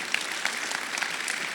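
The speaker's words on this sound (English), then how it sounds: "if you want to clap, clap with full energy." An audience at a Google for India 2022 event claps briefly, a dense patter of hands with a few sharper individual claps standing out, fairly close and without speech.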